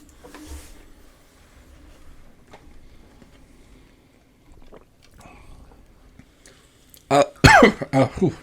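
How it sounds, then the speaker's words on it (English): After a long, mostly quiet stretch with faint shuffling, a burst of several harsh, close coughs erupts near the end. "Coughing again."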